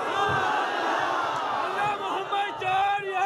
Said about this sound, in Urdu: دیکھیں ایسے نعرے نہ لگائے